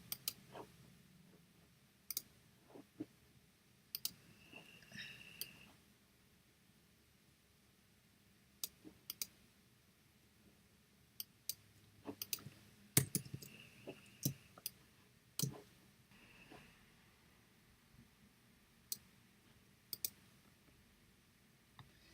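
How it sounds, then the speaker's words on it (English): Sparse mouse clicks and keyboard shortcut taps on a computer sound at irregular intervals, crisp and close but quiet over a faint room hum. "I'm going to click on both, Command C, Command V."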